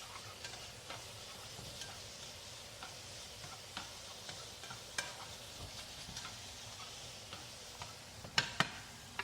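Vegan food with basil is stirred around in a pan, making a low, faint sizzle with soft, ticking scrapes of the utensil at an uneven pace and a few sharper clicks near the end, with no talking.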